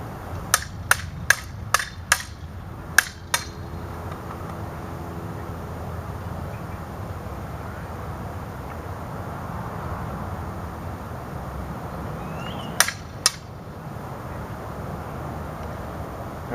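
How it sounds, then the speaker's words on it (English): Aluminum sabers clash in sparring, a quick burst of sharp metallic clicks and clacks early on, then a long quiet stretch of hiss before two more strikes ring out near the end. "now they're using the aluminum swords, and they have better hand protection"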